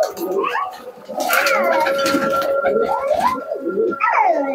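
Pigeons kept at home, heard at night: close, repeated cooing and warbling calls rising and falling over a steady background hum.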